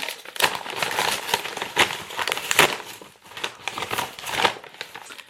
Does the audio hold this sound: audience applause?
no